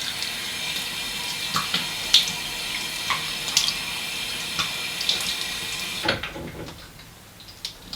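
Tap water running steadily into a sink for rinsing off after a shave, with occasional splashes from hands in the stream before the flow is shut off near the end.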